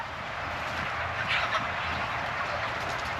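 Chickens in a dark poultry house during a night catchout, heard as a dense, steady wash of clucking and bird noise with a slight swell near the middle and no clear single calls.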